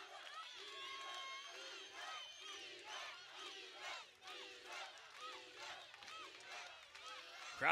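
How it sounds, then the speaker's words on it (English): Crowd at a kickboxing fight in Turkey roars and shouts steadily throughout, a dense wash of voices rising and falling with a brief dip near the end. "Crowd coming alive here"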